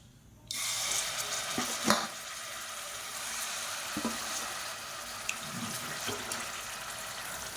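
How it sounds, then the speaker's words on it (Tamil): Marinated chicken hits hot oil in a pressure cooker, a steady close hiss of sizzling and spattering that starts abruptly and runs throughout, with a few soft knocks of stirring and no talk. "எண்ணெய் நல்லா சூடானதும் நம்ம ஊற வச்சு வச்சுருக்கிற இந்த சிக்கனை அப்படியே சேர்த்துக்கலாம்."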